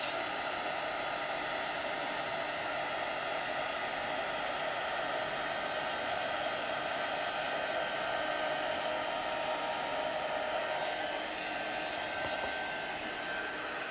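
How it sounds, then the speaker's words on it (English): A heat gun melting embossing powder on a Christmas card gives a steady, faint blowing hiss that holds unchanged throughout, with no talking. "So all we're doing is holding that heat gun still."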